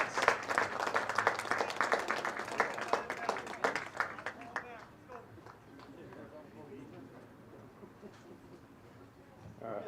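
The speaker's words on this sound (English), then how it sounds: "Let's give our parents one final round of applause." Dense audience applause for the parents at a WIAA high school baseball game, loud and continuous at first, then thinning into a lighter crowd murmur as the clapping dies away.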